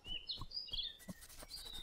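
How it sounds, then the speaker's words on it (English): A small cartoon bird chirps in the walking-simulator game Little Man Has a Day, with several quick high tweets close up and faint soft thuds beneath, no talking. "Hi, bird."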